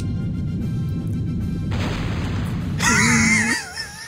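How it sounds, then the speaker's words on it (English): Bridge blown up in the tactics game Yggdra Union on PSP: a low rumbling blast swells under game music, then bright wailing, warbling effect tones rise and fade over about a second. "They blew up the bridge."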